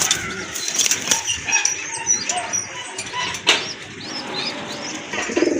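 Racer pigeons in a loft give low cooing and wingbeats at close range, with rustling and scattered clatter around them.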